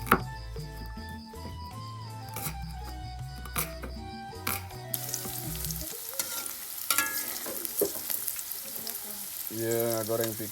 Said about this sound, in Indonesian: Iya, goreng pikeun bumbu liwat ya baraya.